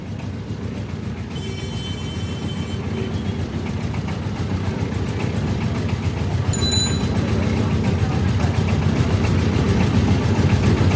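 A mustard oil press machine runs with a loud, steady mechanical rumble and heavy low drone, unbroken for the whole stretch and close by, with a brief higher whine partway through and no voices.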